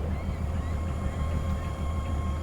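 Lobster boat engine in a North Atlantic fishing video game, a steady low drone with a faint tonal hum above it, continuous and fairly quiet with no talk over it.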